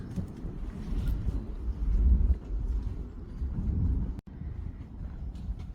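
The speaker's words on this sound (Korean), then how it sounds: "이 바람이 엄청 부는데 바람 소리가 들어갈지 모르겠다" Steady low rumbling wind buffets the microphone, rising and falling in gusts.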